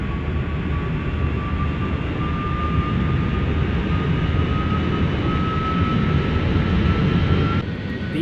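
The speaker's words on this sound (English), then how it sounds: "The plane begins to move." A steady, loud jet engine roar with a rising whine, constant throughout as an airliner rolls down the runway for takeoff in the video game Roblox.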